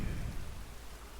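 Steady rain falls in the open world of the video game Witcher 3, a soft continuous hiss and patter with a low rumbling undertone, fairly quiet and unbroken, with no voices over it.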